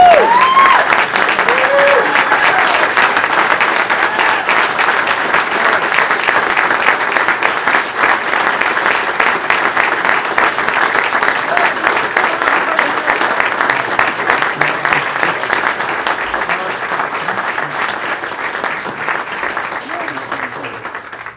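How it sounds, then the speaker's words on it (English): A Rotary Club casino-night crowd gives a standing round of applause for an award, with loud, continuous clapping throughout and a slight fade toward the end. "can we please stand and give him a round of applause?"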